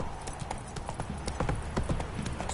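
Horse hooves in The Witcher 3 clatter in a steady galloping clip-clop rhythm, close and fairly loud, with no speech over them.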